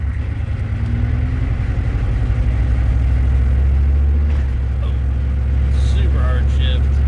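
A 1992 Chevy truck with a 6.5 diesel and 4L80E transmission accelerates hard with a shifting problem, heard from inside the cab as a loud, steady low rumble that climbs gradually, while a voice talks over it briefly.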